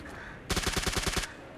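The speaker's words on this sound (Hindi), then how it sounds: "इसलिए डराने के लिए अब फायर दे ही दिया" Rapid automatic gunfire in the PUBG video game, a single burst of about ten evenly spaced shots lasting under a second, loud and close.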